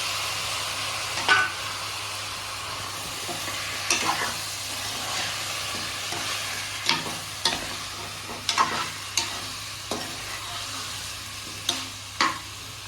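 Mutton trotter pieces fry in oil, a steady soft sizzle broken by repeated sharp clinks and scrapes of stirring at irregular intervals, close by with no talking.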